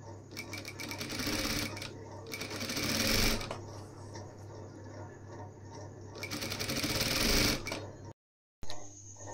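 A sewing machine stitches a band onto a blouse sleeve in close, loud bursts of rapid needle chatter that swell and ease. A very brief silence falls near the end before the stitching resumes.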